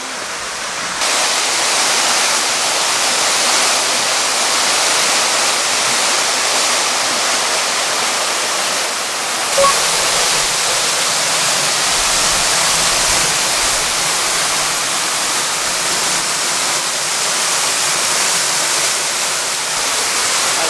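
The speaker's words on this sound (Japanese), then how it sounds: "滝の音がすごいね。" The Tsukimachi waterfall roars in a bamboo forest as a loud, continuous, dense rush of falling water that holds steady from start to finish, with no voices.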